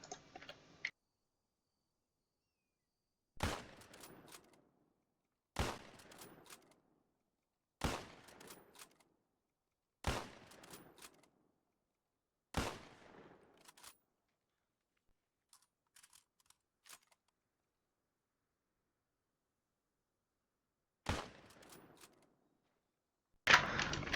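Bolt-action M1903A3 rifle firing in Arma 3 with the IFA3 mod: six sharp, loud single shots spaced a few seconds apart, each with a short echoing tail, plus a few faint clicks and a final shot at the end, with no talking.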